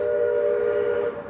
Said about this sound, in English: That is the Georgetown train. It's a steam train